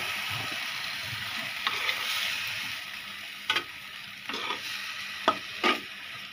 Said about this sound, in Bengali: এই তো শাকগুলি সিদ্ধ হয়ে গেছে, আমার জাল নাড়া দিয়ে নিচ্ছে।